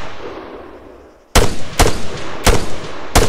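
Gunfire in ARMA 3: four sharp, loud rifle shots crack at irregular intervals after a quiet stretch of low background noise, each with a short echoing tail.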